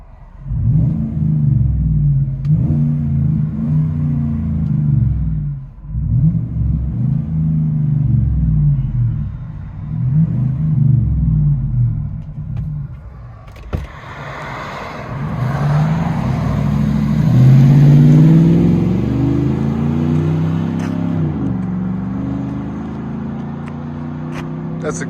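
Car exhaust fitted with a Magnaflow muffler, heard from inside the cabin as a low droning rumble that swells in repeated rev pulses and then settles into a steadier, louder growl while driving.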